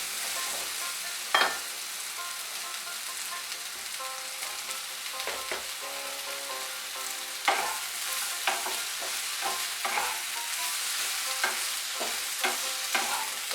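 Chopped tomato fries in a pan with a soft, continuous sizzle, punctuated by the repeated tap and scrape of a utensil stirring, close and without voices.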